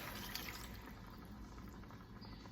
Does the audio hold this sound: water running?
yes